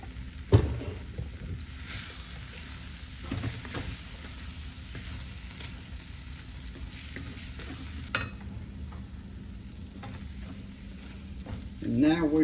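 Ground venison sizzles and fries steadily in a pan as soy sauce goes in, with a few sharp clinks and stirring scrapes, and a louder crackle of spatters near the end.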